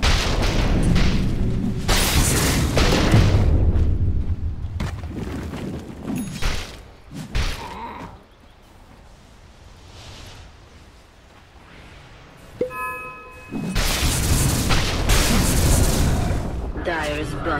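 Booming impacts and bursts from a tower under attack in Dota 2, loud and dense at the start and end with quieter stretches between, under announcer-style voices.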